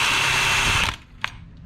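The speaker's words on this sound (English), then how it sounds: "You basically just turn on your drill, plunge." A power drill with a plunge bit boring a door hinge hole whirs steadily and loud for under a second, then stops, leaving a quiet room with a single short tap.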